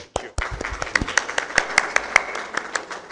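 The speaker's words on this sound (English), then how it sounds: "So great applause for them." Scattered clapping at a medical arthroplasty conference, a few sharp distinct claps that build into thin, uneven applause, with some faint voices mixed in.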